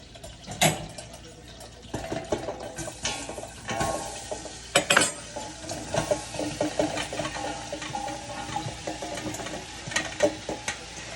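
Chopped onions sweating in butter in a pot for French onion soup give off a soft, steady sizzle, with scraping and clattering stirring noises throughout and a few louder knocks near the start and middle.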